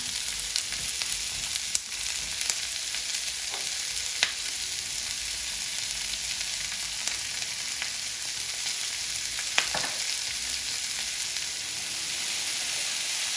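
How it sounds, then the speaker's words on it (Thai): Vegetables stir-fried in a pan until soft give a steady, fairly loud sizzle throughout, with a few sharp clicks and scrapes of stirring breaking through now and then. "แล้วก็ผัดผักให้นิ่มเลยนะคะ"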